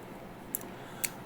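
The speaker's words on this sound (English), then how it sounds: "scissors." Scissors on a Leatherman Charge Plus TTI multitool with titanium handles snip twice, giving two sharp, close metallic cuts about half a second apart over quiet room tone.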